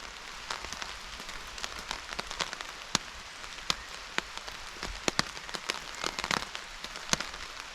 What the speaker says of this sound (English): The rain doesn't seem to be slowing down as of yet.